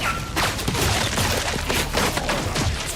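Bolt guns firing and explosions in a Total War Warhammer 40k battle, a dense fusillade of rapid bangs and thumping blasts overlapping loudly without pause.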